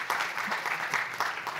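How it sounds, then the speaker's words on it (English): Conference audience at a development bank's annual meeting on electric mobility applauds, a brief burst of dense clapping heard at steady moderate volume. "A big round of applause"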